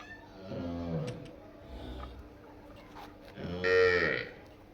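Cholistani Jersey cross cow lowing on a farm, two drawn-out moos close by with a fainter low call between them, the last one louder and harsher.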